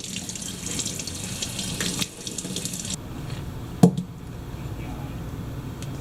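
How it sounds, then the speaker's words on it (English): Tap water runs steadily into a sink while two packages of blackberries are washed, with a hiss of flowing water, one sharp knock partway through and faint speech. "Wash 2 6-ounce packages of blackberries."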